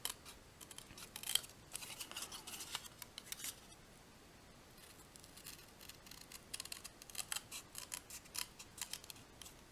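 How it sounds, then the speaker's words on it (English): Scissors snipping through paper while the sheet is turned during a stamped card coloring project, with quiet, closely miked clipping and rustling that comes in irregular bursts and has no voices over it. "I'm not moving my scissors, I am actually moving the paper"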